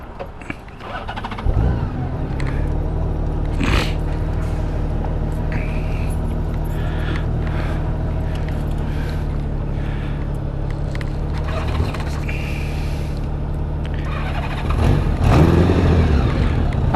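A Honda GL1100 Gold Wing motorcycle engine runs at a steady, even idle with a deep, close rumble, and it briefly revs louder near the end.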